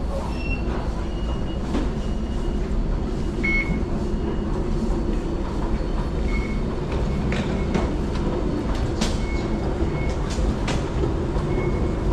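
Steady low rumble of Bugis metro station in Singapore with a train running, faint electronic beeps and chimes recurring over the constant background drone.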